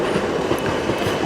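A South Western Railway train pulls into London Waterloo station with a loud, steady rumble of wheels on track and faint rail squeal, close and continuous throughout.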